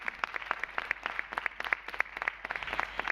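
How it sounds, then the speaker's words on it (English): Applause in a parliamentary assembly chamber for young people seated in the gallery, a steady run of moderate clapping heard from some distance. "Maybe we can applaud them."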